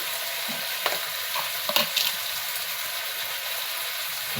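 Spices, cumin powder, ginger, green chilli and softened tomato fry in a pan, giving a soft, steady sizzle with a few faint scraping stir sounds.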